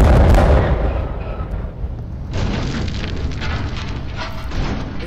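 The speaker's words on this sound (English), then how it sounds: "Blast imminent in 10, 9, 8, 7, 6, 5, 4, 3, 2," Explosive demolition blast bringing down a power plant: a loud, deep boom opens, then a heavy rumble settles and rises again into a sustained broadband roar, with no talk.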